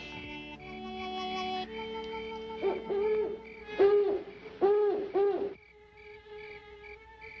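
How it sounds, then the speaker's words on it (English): An owl hoots at night, several low, wavering calls repeating across the stretch, over a steady background chorus of insects or frogs in an outdoor setting. "That's only an old owl."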